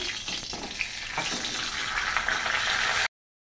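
A large katla fish head fries in hot oil, a loud continuous spitting sizzle with a few crackles, rising in intensity before abruptly cutting to silence; no talking.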